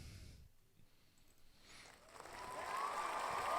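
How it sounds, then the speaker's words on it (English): A cheering crowd sound effect played from a soundboard starts after a quiet pause and swells into a growing wash of crowd noise and applause. "Okay, that's cheering."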